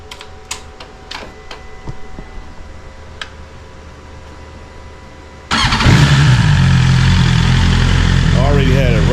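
A BMW S1000RR sport bike with an aftermarket exhaust fires up after a few soft clicks, then holds a loud, close, raspy roar that swells with revs.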